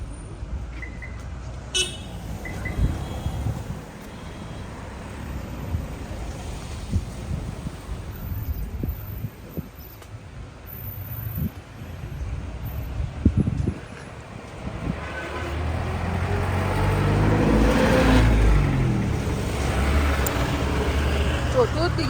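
Busy road traffic in hilly Darjeeling, with a continuous rumble of passing vehicles and occasional horn toots, growing louder toward the end. Voices are faintly heard in the background.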